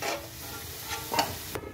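Potatoes fried reddish-brown in oil, stirred and lifted out of the pan, giving a soft steady sizzle broken by a few brief scraping strokes of the spoon, fairly quiet and with no talking.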